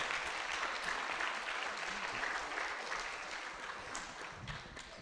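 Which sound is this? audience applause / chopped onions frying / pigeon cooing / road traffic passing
audience applause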